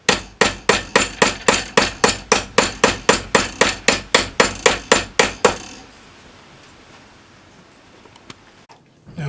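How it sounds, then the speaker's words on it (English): A jeweler's hammer strikes a metal cuff bracelet in a steady run of about sixteen sharp, ringing blows, close and loud, then stops, leaving quiet room tone. "you need to hold the ends together as you're hammering it to keep it from opening up"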